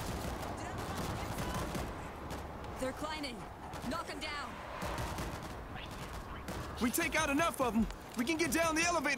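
Continuous rattling gunfire in World War Z amid a chaotic battle, with several excited voices talking and shouting over it throughout.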